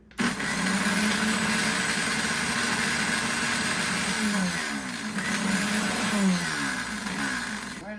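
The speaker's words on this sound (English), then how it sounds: "Blend that up a little bit." A blender whirs continuously, close and loud, blending hummus with fresh lemon juice, its motor pitch dipping and rising slightly as the mix churns.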